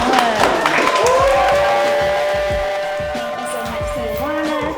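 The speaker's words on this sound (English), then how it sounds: "applause to Dr. Tasha as she kicks off the debut of episode 1" An audience cheers and whoops at a podcast screening, with excited voices and scattered clapping over a steady crowd roar, loud at first and easing slightly before picking up again.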